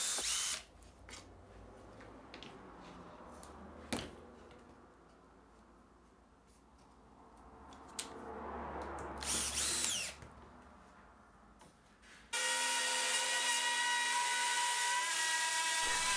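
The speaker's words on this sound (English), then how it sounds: "After the three holes have been cut out along both sides, that's all the bits done." A power drill cutting holes into a workbench top with an Axminster UJK Parf guide system, with scattered clicks and handling knocks, a rising whirring cut, then a loud steady high whine for the last few seconds.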